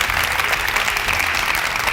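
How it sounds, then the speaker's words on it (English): A studio audience at a televised competition breaks into dense, loud applause, a continuous wash of many hands clapping with no voices over it. "A round of applause"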